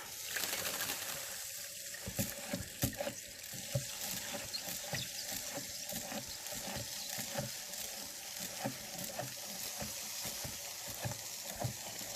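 Lye is being stirred into water for soap making, giving a continuous hissing, fizzing wash broken by irregular clicks and scrapes throughout, close to the listener, with no one speaking.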